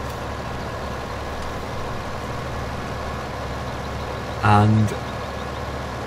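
A six-ton tractor idles in Farming Simulator 2015 on the Westcreek map, a steady low engine drone running throughout beneath a brief spoken word.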